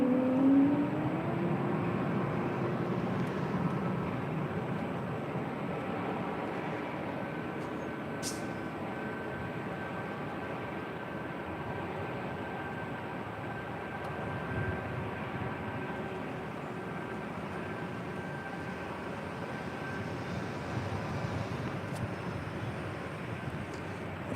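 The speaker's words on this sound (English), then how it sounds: "They're an Airbus A22300 lining up there. Been making a lot of noise as she taxis." A Delta Airlines Airbus A220-300 taxis at LAX, a steady broad engine rumble with a faint whine, distant and constant, without pauses or voices.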